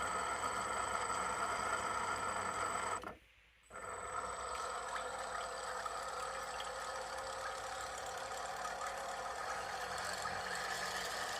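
Small electric motor of an RC car, freshly cleaned with WD-40, runs with a steady whining buzz, broken by a brief cutout near the start before spinning back up and holding a constant drone.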